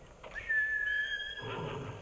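Samurai horse neighing in the Ghost of Tsushima video game, a single rising whinny with no talk over it.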